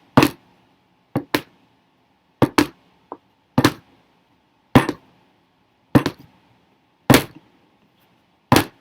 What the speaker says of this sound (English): It's the sound of those heels on the wooden porch.